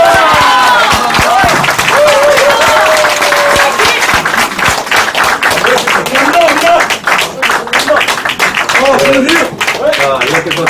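Audience applause and clapping fill the space at a Korean political rally held at an election-fraud exhibition, loud and sustained throughout, with a crowd murmuring and voices mixed in.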